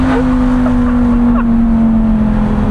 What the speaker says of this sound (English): Whoever straight piped this actually understood the definition of straight pipe.